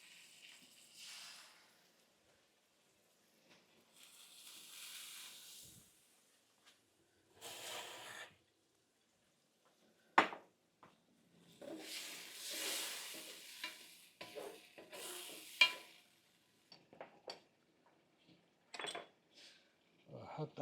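Water splashed into a hot pan while cooking Chinese shrimp, giving bursts of sizzling and hissing between quieter pauses, with stirring scrapes and clinks close by.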